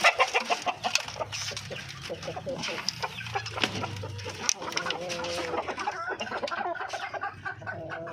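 Darag native chickens fed fruit and vegetables cluck and call steadily up close, a busy flock with a rooster crowing at one point, while a person talks among them.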